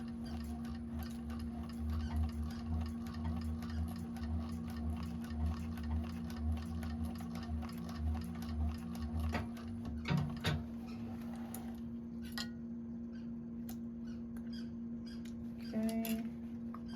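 A 1341 cylinder arm sewing machine back stitches a bag seam, its quick even needle ticking running steadily and fairly close, with brief pauses and a few small clicks near the end.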